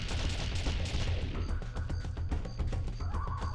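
Rapid bursts of gunfire ring out in a Rare Replay video game as ants are shot, dense overlapping shots giving way to sparser pops with game tones beneath.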